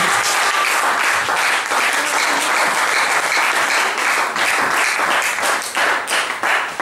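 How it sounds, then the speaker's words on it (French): Loud, dense applause from a church congregation, continuous crowd clapping filling the space throughout with no break. "Est-ce qu'on peut encore acclamer très fort pour la Dieu?"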